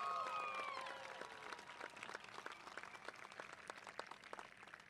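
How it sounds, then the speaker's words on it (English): An audience at a high school ceremony claps and cheers, strongest at the start, then thins into steady scattered clapping at a moderate distance. "Give yourselves a round of applause."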